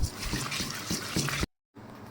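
Fish is washed with turmeric and rock salt in a clay pot, with close watery splashing and sloshing that drops into a brief silence before the rinsing resumes.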